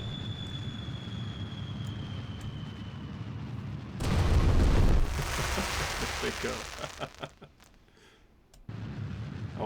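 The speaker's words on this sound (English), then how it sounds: "It stops the engine sound to do the fireworks sound." Fireworks launched on the Mun in Kerbal Space Program, a sudden loud crackling burst that falls into scattered pops and fizzles while a voice speaks briefly.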